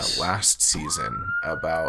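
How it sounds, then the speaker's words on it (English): A police siren tone rises and holds steady behind a person talking, fairly prominent under the speech for about two seconds. "please excuse the sirens."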